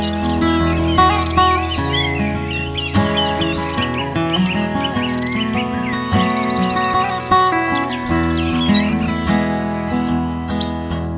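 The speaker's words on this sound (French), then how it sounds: "un quatuor vocal de jeunes mésanges à longue queue" Young long-tailed tits calling together as a small group, a continuous chorus of high thin chirps and trills, close and bright, overlaid on a prominent sustained background music bed with no talking.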